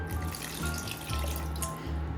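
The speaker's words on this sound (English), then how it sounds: "let's also add 1 cup of water" Water pours from a tap or jug into a pot for a beef and bacon pot roast, a steady splashing trickle with a low rumble beneath, no talking.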